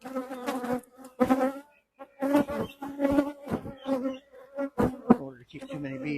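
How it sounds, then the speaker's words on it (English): Honeybees buzz around an opened beehive, with many bees packed in the slatted rack at the bottom; the droning hum comes in close, uneven bursts with short quiet gaps between them. "tons of bees in the slatted rack at the bottom"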